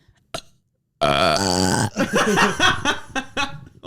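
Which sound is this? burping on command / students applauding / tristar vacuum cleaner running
burping on command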